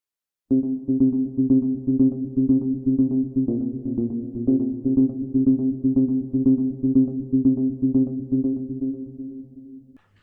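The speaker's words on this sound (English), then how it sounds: "The first track is a muted electric guitar" Muted electric guitar notes pluck in a steady rhythmic pattern, with echoing repeats trailing each note, sustained for about ten seconds before stopping.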